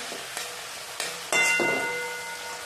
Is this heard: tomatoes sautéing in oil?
yes